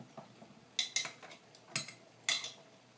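Metal Glock magazine parts dropped into an empty pot: a few sharp, close metallic clinks and rattles at irregular intervals against quiet background.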